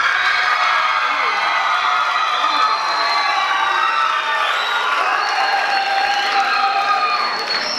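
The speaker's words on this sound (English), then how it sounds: "Let's give them one more round of applause" Audience applause and cheering at a school ELL debate event swell into a dense, sustained clapping with whoops and shouts from children, loud and close, continuing without pause.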